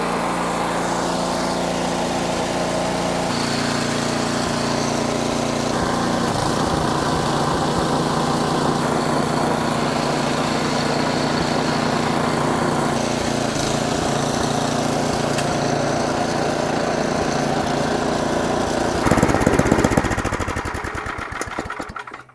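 A snowblower's small engine runs steadily and loudly after auger and drive belt replacement, droning close with a shifting mechanical whir, then revving briefly near the end.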